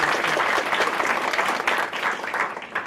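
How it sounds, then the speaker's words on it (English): An evening lecture audience gives a round of applause for the guest speaker: thick, continuous clapping from many people filling the room, steady and fairly loud throughout without talk. "Can we give our speaker, Marc Dollinger, a round of applause?"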